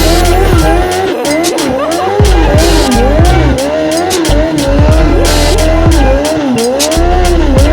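A new tyre spun in a burnout, the engine revving hard while the rubber squeals and skids continuously, loud and close with rising and falling surges and no talking.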